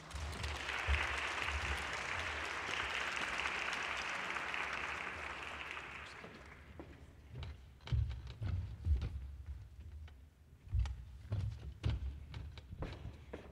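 Conference audience applauds a speaker, dense clapping for about six seconds, then it thins to scattered claps, thumps and a few cheers.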